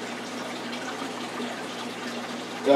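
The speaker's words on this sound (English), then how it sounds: "I'm basically just letting the waterfall run at the moment" Steady running water from a fish tank waterfall, a continuous even splash and trickle heard close and alone, with a slight swell at the very end.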